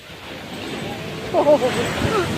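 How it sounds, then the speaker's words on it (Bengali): Sea waves breaking on the beach at Puri around sunset, a steady wash of surf and wind noise with a slightly louder surge midway, heard from the shore. "এবার একটু সমুদ্র ঢেউটা জোরে হবে"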